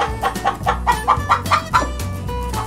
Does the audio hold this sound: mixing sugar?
no